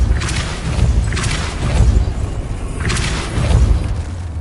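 Casting the Depulso spell in a Harry Potter video game produces heavy, low booming blasts with a rushing whoosh, three loud pulses over a continuous rumbling backdrop, close and dense.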